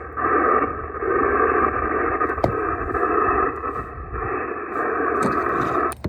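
An amateur radio receiver on the 20-meter band is tuned across frequencies, giving bursts of band-limited hiss and garbled signal that drop out and return, with brief clicks and sweeps as the dial moves.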